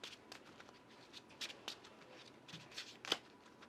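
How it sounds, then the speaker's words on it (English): Playing cards are shuffled into a deck during a Marvel Champions card game, a series of soft, crisp riffling and flicking sounds in scattered bursts, close and quiet with no talk. "This gets shuffled into our deck."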